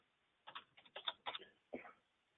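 Fingers tap out a search string on a computer keyboard in a quick burst of close, crisp keystrokes, with a short pause before a final cluster of taps, and no one speaking.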